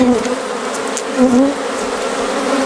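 A swarm of honey bees hums steadily and close as they move into a bee box on a farm, a dense buzzing drone with individual bees whining past and shifting in pitch.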